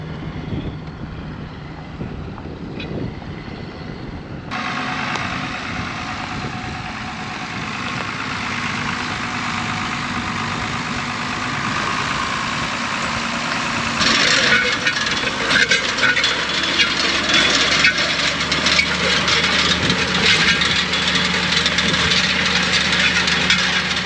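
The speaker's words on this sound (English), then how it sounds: "Dad's out chisel plowing." Tractor pulling a chisel plow across a wet farm field gives a steady, moderately distant engine drone with a broad rumbling hiss and occasional creaks and rattles from the implement throughout.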